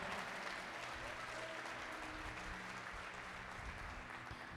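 A church congregation applauding during a sermon, a continuous, even clapping from many people that sounds faint and distant and carries on steadily for the whole stretch.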